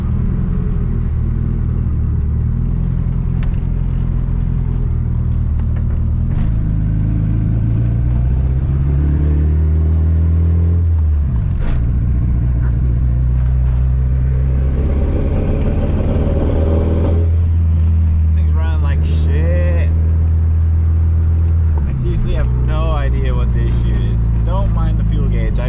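An AWD Honda Civic engine runs rough with a misfire, a loud, close, uneven rumble that rises and falls with revs over about twenty-five seconds, with someone talking over it at times.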